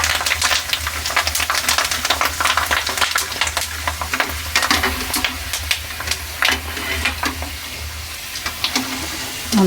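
Potato chips fry in hot oil, producing loud, dense bubbling with constant crackle and sharp pops, close up, with no talking.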